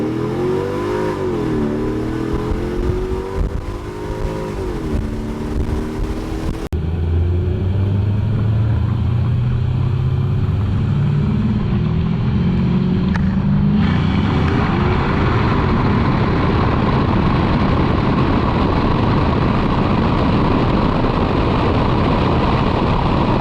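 A car on Nitto NT-05 tires does a 20 roll pull, its engine loud and revving hard through rising gears, then roaring with strong wind and road noise at speed.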